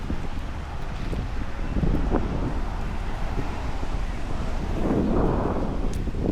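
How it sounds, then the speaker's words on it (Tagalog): Strong wind buffets the microphone outdoors in Cleveland in a continuous roaring rush, with low rumbling gusts swelling and easing throughout. "Ang lakas ng hangin."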